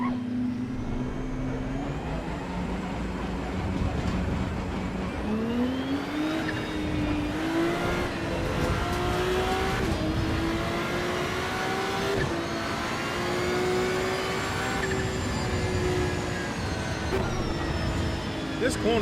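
A Ford Mustang race car engine in the Raceroom sim racing game drones steadily and loud throughout, pitch climbing and settling with gear changes as it laps a circuit, with a voice talking over it.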